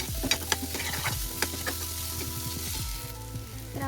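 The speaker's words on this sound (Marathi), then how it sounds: "त्याला पण फ्राय करून घ्यायचा आहे." Ground green peas frying and being stirred in a pan for matar nimona curry, a steady close sizzle broken by scraping clinks of a spoon against the pan, with no talking.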